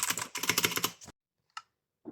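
Fast typing on a 60% mechanical keyboard with blue switches: a close, crisp run of rapid clicks for about a second, then silence broken by a single keystroke and one more at the end.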